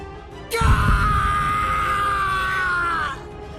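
A man screams in pain as a video game character in Bleach Rebirth of Souls, a loud sustained cry lasting about two and a half seconds that starts abruptly, holds steady and then cuts off, with no other voices.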